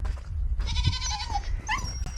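Goats on a farm bleat loudly and close by, two or three wavering calls in quick succession with low rumbling noise in the background.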